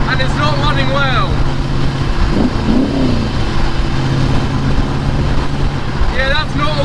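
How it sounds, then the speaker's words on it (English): A loud replica supercar engine that took in water through its front scoop runs rough and misfires, not on all cylinders, with an uneven throaty drone under nearby talk. "It's not running on all cylinders, so I hope it dries out."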